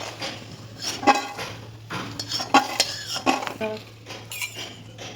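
Metal utensil scraping and clinking against a pan while fried lentil dumplings are lifted out, several sharp knocks and stirring sounds over a faint steady hum, close by.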